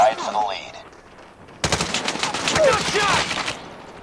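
Rapid bursts of gunfire fill a ranked shooter match, loud and dense after a quieter opening, with faint voices beneath.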